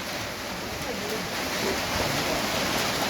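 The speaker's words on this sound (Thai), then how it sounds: "ฝนตกครับผม" Steady rain falls outdoors during a Songkran festival day, a dense even hiss of drops that stays fairly loud and unbroken throughout with no other clear sounds on top.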